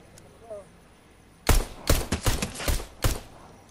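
Several sharp pistol shots in a video game, about six quick reports in an uneven burst following a quiet stretch, close and fairly loud.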